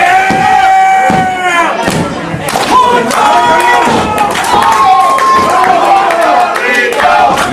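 Loud arena crowd at an IWA Caribbean Championship wrestling match, Walter Diaz vs Mr. Puerto Rico, roaring and cheering continuously with shouts and scattered thuds, a commentator's voice running underneath.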